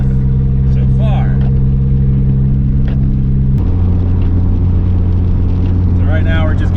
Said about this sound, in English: The blow-up valve is so much louder too.